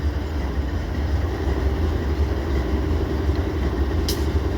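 A BNSF ES44C4 locomotive hauls a train past, giving a loud, continuous low rumble and wheel noise with a brief high squeal near the end.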